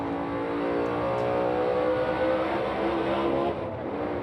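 Onboard engine of a NASCAR Cup Series race car at Phoenix Raceway, a loud, steady high-revving roar held close for several seconds with a brief dip in throttle near the end.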